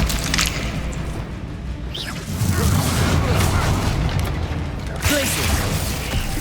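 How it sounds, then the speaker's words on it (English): An Expelliarmus spell cast in the video game Hogwarts Legacy, a dense rumbling, clattering magical effect with mechanical creaks and booms swelling midway and again near the end. "Expelliarmus."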